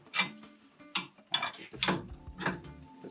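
A large 19 mm wrench works a rear suspension bolt on a car, giving about six quick metallic ratcheting clicks and clanks in an uneven rhythm, close and crisp.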